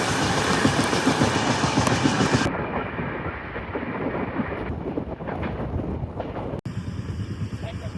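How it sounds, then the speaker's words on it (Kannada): The Vasco Express train on the route toward Dudhsagar, a loud steady rumble and rail clatter that eases partway through, with voices talking over it. "ನೋಡಿ ಟ್ರೈನು ಇಲ್ಲೇ ಐತೆ"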